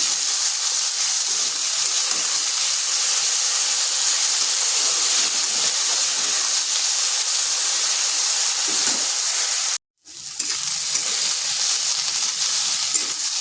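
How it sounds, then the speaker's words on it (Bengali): Potato pieces, cut slightly thicker than usual and salted, fry in a pan with a loud, continuous hiss and sizzle that cuts out for a brief moment before resuming just as strongly. "এবার আলুটাকে একটু ভাজা ভাজা করে নিচ্ছি"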